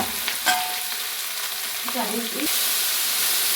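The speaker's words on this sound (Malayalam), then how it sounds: "സവാള, ഇഞ്ചി, പച്ചമുളക്, കറിവേപ്പില വെല്ലം ഇട്ട് ഇളക്കി വഴറ്റാൻ വെച്ചേക്കുവാണേ." Onion, ginger, green chili and curry leaves sauté in hot oil with a constant close sizzle, punctuated by a few clinks and scrapes of a stirring spoon. The frying grows slightly louder toward the end, with no voices.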